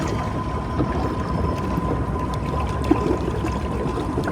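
A Jackson Knarr kayak runs at top speed under a Motorguide Xi3 trolling motor, giving a steady rushing wash of water and wind with a faint constant motor whine, close and unbroken.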